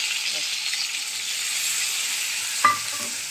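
Ground spice paste goes into a hot frying pan where the food is already frying, giving a steady bright sizzle and hiss with a soft stirring scrape and a brief louder clack near the end.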